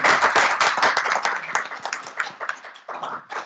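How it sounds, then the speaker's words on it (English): Audience members at a sustainable agriculture panel forum clap for the panelists, a fairly small group producing distinct, uneven hand claps that thin out and taper toward the end. "a big round of applause for the panelists"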